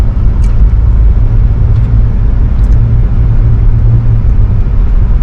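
Interior drive in a Cadillac being rebuilt, taken gently on a short trip: a steady, loud low engine and road rumble runs throughout, with faint ticks and clicks above it and no talk.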